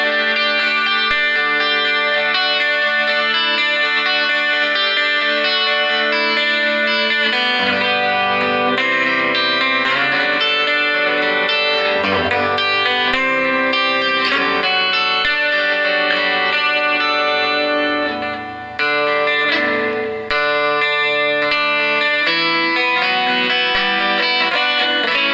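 Rickenbacker 12-string electric guitar chiming with a bright, jangly tone, strummed chords ringing continuously and full with shimmering doubled strings and some effects, loud and unaccompanied by talk.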